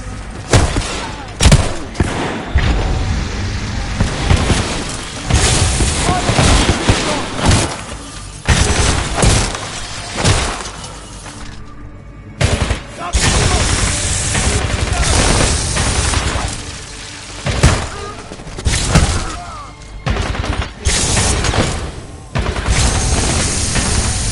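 Heavy video-game gunfire aimed at a hostile pilot, loud bursts of shots and booms coming in clusters with short gaps over a long stretch.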